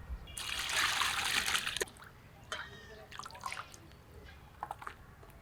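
Mutton bone pieces are rinsed together under running water in a home kitchen, a loud steady trickle and splash for nearly two seconds followed by quieter intermittent sloshes and drips.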